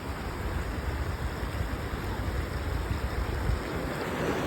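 Sea waves slapping against a small fishing boat off the Konkan coast, a continuous rough wash of water and wind noise, close and fairly loud with no clear individual splashes.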